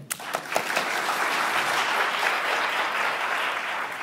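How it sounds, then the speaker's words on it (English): Theatre audience applauding at a high school stage production, beginning with a few sharp claps that swell into dense, sustained clapping from the whole house, steady and fairly loud. "I trust the moderation of your applause merely means you're conserving your energies for the final curtain"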